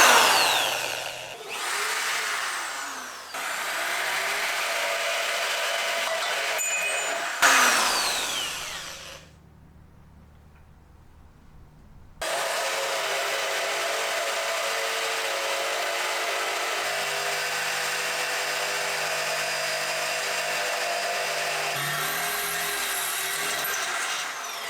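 A drill bores holes through a metal crash bar for an intercooler mount on a Honda Civic turbo build, giving loud, steady grinding close by with a brief quiet pause partway before the drilling resumes.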